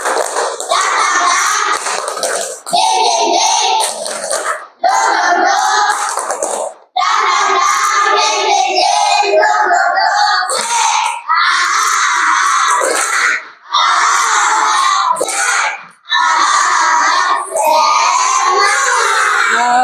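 A classroom of children in Padang does a rhythmic clapping chant together, loud bursts of young voices and hand claps in repeated phrases separated by short pauses.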